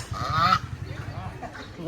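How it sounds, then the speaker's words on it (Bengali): A short burst of loud, nasal honking quacks from a nearby duck, followed by a few softer calls. "তা হাঁস।"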